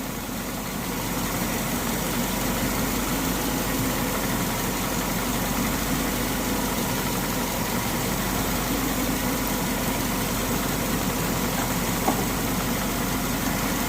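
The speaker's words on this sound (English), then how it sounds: "You can tell the AC compressor because these high pressure lines are going to it, and it's spinning, so ours is on." A Subaru engine idles steadily with its AC compressor engaged and spinning, producing a constant close-up mechanical hum and whir with no change in pace throughout.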